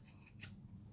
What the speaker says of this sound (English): Nice sharp scissors